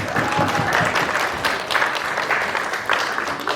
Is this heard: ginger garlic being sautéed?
no